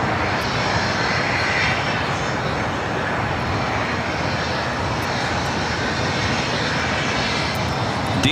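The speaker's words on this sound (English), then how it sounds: "DHL 777 freighter about to touch down at 25 left" A DHL Boeing 777 freighter comes in to land on runway 25 Left at LAX, a loud, continuous broadband jet roar that holds steady throughout with no talking.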